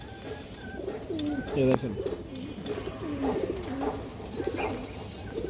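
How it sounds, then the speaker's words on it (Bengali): Two high-bloodline female pigeons coo in soft, repeated throaty pulses close by, with someone talking over and between the calls. "2 পিস মাদি কবুতর এক লগে"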